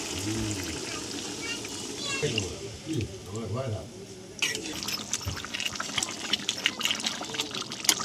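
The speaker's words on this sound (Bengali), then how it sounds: "আমি জল দিয়ে দিলাম" Water goes into a hot pan of frying paneer with peas. Someone talks over a soft bubbling, then a sudden loud, crackling sizzle erupts and continues close by.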